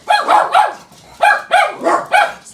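Dogs bark in loud, close bursts, two quick barks, a short pause, then three more in a fast rhythm, with no talking.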